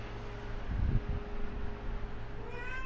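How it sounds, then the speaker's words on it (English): A cat meows once or twice close by in a room with a constant fan-like hum, with faint rustling and a few brief tonal sounds afterward. "No food for the kitty, dude."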